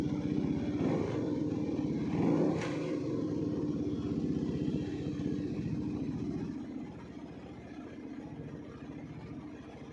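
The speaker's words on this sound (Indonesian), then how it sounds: "Tetap suaranya adalah suara khas mesin 1 silinder." Classic Kawasaki single-cylinder motorcycle engine running steadily at close range, a soft, even low-pitched thump that stays mild and unrevved, easing slightly quieter in the latter part.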